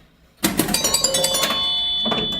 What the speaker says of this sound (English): This has chimes and spinners.